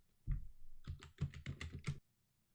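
A run of crisp computer keyboard keystrokes entering a dollar amount, about eight quick clicks in close succession, near and clear in a quiet room with no talking.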